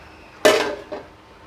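A spoon clanks against a cooking pot while biryani is stirred: one sharp metallic knock followed by a softer second scrape, close and alone in a quiet kitchen.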